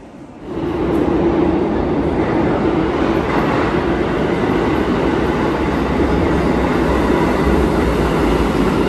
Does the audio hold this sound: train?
yes